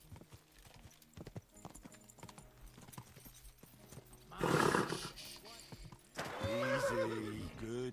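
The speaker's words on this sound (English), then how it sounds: "Easy, good horse." Horse hooves clip-clopping in the medieval video game Kingdom Come: Deliverance II, faint rhythmic steps with a loud whinny partway through, and a voice speaking at the end.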